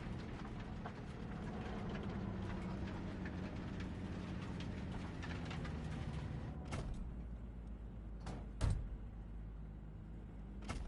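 A train rolls along the rails with a steady rumble and rattle, dense low-frequency noise throughout, broken near the end by a few sharp clanks and one louder knock.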